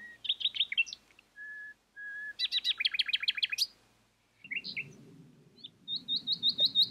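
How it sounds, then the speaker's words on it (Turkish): A nightingale sings varied phrases: rapid trilled chirps, steady pure whistles, and repeated rising notes, clear and fairly close against a quiet background. "Bülbülün görüntüsü ve sesi bu şekildeymiş."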